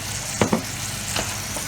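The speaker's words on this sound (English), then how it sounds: "I want to fry these in that oil" Sausages frying in oil in a pan over medium heat for Southern fried corn, a dense continuous sizzle, broken by two quick clinks and a softer knock.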